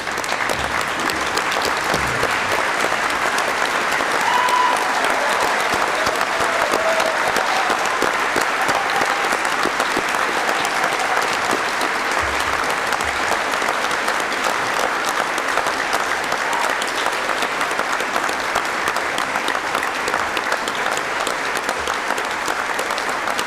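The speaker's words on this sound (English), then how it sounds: "join me in one last ringing round of applause for this afternoon's graduates" Long, sustained ovation from a standing audience for graduates at a Faculty of ABLE university graduation ceremony, an even, continuous roar of clapping in a large hall that holds steady throughout.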